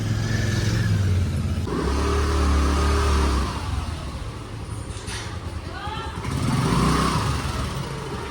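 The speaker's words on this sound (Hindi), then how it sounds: "तो ये हमारी छोटी सी स्कूटर पूरा ओवरलोड हो चुकी है।" A small overloaded scooter riding along a road, its engine droning steadily and rising and falling under traffic noise, with a person talking over it throughout.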